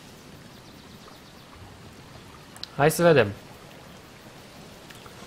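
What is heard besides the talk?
rain in the video game Kingdom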